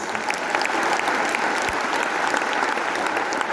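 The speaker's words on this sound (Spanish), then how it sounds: "Dale palmas a Jesús" A church congregation claps for Jesus during worship, a steady dense wash of applause that fills the space evenly from start to finish with no voices standing out.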